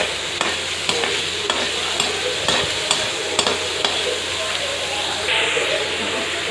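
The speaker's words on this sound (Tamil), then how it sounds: "3 பெரிய வெங்காயம் நல்லா வதக்கிக்கணும். பொன்னிறம் ஆகிற அளவுக்கு நல்லா வதக்கணும்." Three large chopped onions frying in coconut oil for a dried-fish thokku, a steady loud sizzle broken by repeated scraping clatters of a spoon stirring the pan.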